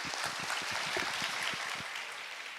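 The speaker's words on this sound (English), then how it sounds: "Please give them another big round of applause." An audience at a conference forum claps steadily, a dense patter of many hands held at an even level from start to finish with no voices over it.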